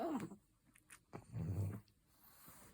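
A pregnant dog lying down close by gives a few soft whimpering and grumbling vocal sounds with short breathy snorts between them, quiet and intermittent, with no talking.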